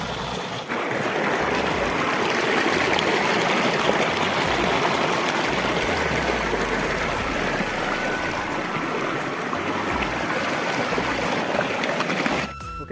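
A mountain stream in the hills of Karbi Anglong rushes steadily, a loud, dense wash of flowing water that holds constant for about twelve seconds with no voices.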